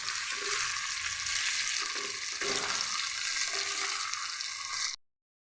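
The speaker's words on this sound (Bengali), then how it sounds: "এখন মাছগুলি একটু লাল লাল করে ভেজে নেব।" Fish sizzling steadily in hot oil in a wok, fried until reddish for a Bengali mustard fish dish; a dense, continuous close-up crackle with no talking.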